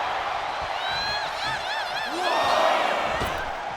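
A wrestling arena crowd in WWE 2K25 roars in a sustained, swelling cheer with whoops and whistles, building louder toward the end as an excited commentator talks over it.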